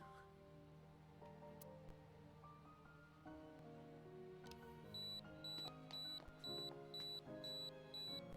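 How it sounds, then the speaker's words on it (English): A camera in AI: The Somnium Files gives a steady run of short, high electronic beeps in a regular on-off rhythm, layered over continuous game music during the second half. "What was with that incessant beeping from the camera, though?"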